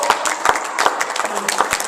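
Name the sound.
church congregation applauding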